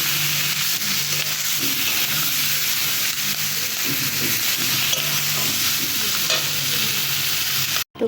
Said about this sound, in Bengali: আর সাথে একটু লবণ দিয়ে মাংসটাকে ভালো করে নাড়তে হবে।